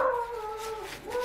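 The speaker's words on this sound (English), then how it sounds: "the dog's going nuts" A dog howls and whimpers in a long, wavering, rising-and-falling cry, fairly close and alone, with a second higher tone joining near the end.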